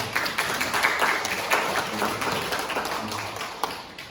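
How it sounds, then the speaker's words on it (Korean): A church congregation claps for an elder, a steady wash of many hands at moderate loudness held for several seconds with no voices on top. "우리 박수 한번"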